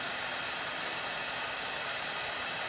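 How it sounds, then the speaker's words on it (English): A heat gun warms a rubber tenon, producing a steady, even blowing roar that stays at one level throughout the short stretch. "get your heat gun out and heat up the"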